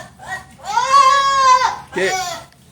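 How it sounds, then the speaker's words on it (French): Goats at a goat shed on an excursion in Isan, Thailand, give two loud, close bleats, a long wavering cry followed by a shorter one. "La cabane des chèvres."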